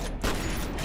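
Heavy gunfire in the shooter F.E.A.R., a loud, dense burst of shots against an armored heavy soldier, sharp blasts with rattling tails filling the whole moment.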